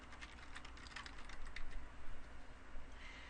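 A computer keyboard rattles with quick, light keystrokes as a book title is typed into a library catalog search. The clicks come in close, irregular bursts with no one talking.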